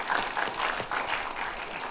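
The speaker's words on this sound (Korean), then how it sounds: "먼저 박수 한번 주세요." Steady, dense applause fills a hall at the opening of a Korean history lecture, a full audience clapping continuously at moderate loudness without speech.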